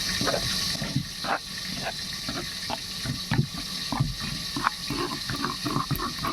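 Water poured into a paste of ground white and black mustard seed in a kitchen, a running splashy trickle with scattered clinks and taps, moderately close and steady throughout.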